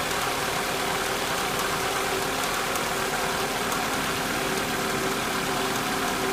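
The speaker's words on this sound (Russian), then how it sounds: "двигатель вообще работает мягко." A 1999 Honda CR-V engine idles smoothly just after an oil and filter change, giving a steady, even hum with a faint rattle. It runs alone at moderate level with no talk.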